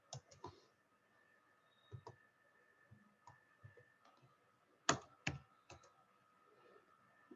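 Sharp keyboard and mouse clicks in scattered bursts while someone creates folders on a computer with shortcut keys, fairly faint and close, with a steady electronic hum beneath and no talking.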